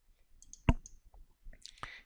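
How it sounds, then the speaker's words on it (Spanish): A computer mouse gets double-clicked while a database folder is created in ArchiCAD: a few small, sharp clicks land close together near the mic in a quiet room, with no talking. "Le doy doble clic"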